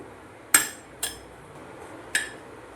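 Three separate sharp metallic clinks as a utensil strikes a nonstick pan while grated coconut filling is stirred in ghee, spaced unevenly against a quiet background.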